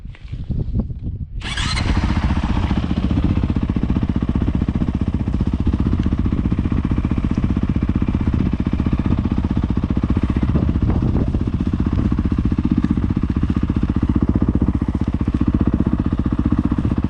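A Honda CRF450 dirt bike fitted with a helmet LED light kit starts up and idles steadily, a loud, continuous engine roar that fills the whole stretch with no talking.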